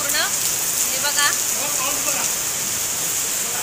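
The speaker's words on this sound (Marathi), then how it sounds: "आणि पाऊस बघा किती जोराचा आहे." Heavy rain pours steadily as a constant loud hiss, with people talking briefly over it.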